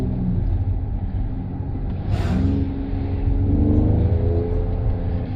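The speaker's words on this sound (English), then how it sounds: "so you can actually hear the exhaust note in this car" A 2025 Mercedes-AMG GLE 53 gives a deep, steady exhaust rumble from inside the cabin, swelling slightly as the engine revs, with no talking.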